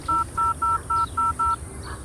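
Telephone keypad tones, six short evenly spaced beeps in quick succession, clear and close, followed by a faint softer tone over a low background hum.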